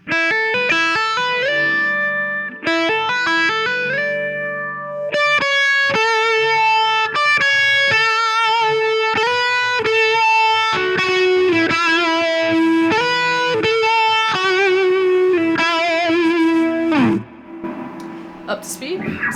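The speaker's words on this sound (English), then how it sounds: "So that whole little first chunk of the solo, slow down all together, sounds like this." Electric guitar plays the first part of a song's solo slowly, with clear sustained melodic notes, slides and bends through distortion and effects, steady and up close, ending in a brief burst of noisier picking.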